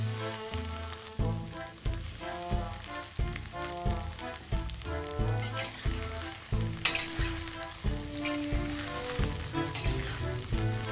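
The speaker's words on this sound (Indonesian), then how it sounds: "Tumis tempe sampai matang atau berubah warna, tapi nggak kering." Tempeh pieces sizzling and crackling steadily in a small amount of hot oil as they are stir-fried for orek tempe, a continuous frying hiss running beneath background music with no voices.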